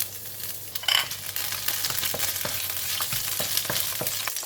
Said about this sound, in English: Fry until the spices release the aroma